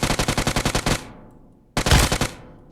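Rapid automatic gunfire in the mobile battle royale game PUBG Mobile: a fast burst of about ten evenly spaced shots, then a pause and a second, louder burst of quick shots, loud and close.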